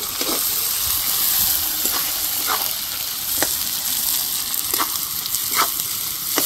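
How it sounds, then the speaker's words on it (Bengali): Finely chopped onion fries in hot oil for a bhetki fish-bone chorchori, a steady bright sizzle broken by several sharp scrapes of a spoon stirring the pan, close and without talk. "দিয়ে দিব পেঁয়াজ কাটাটা। খুব ভালো করে নেড়ে নিব।"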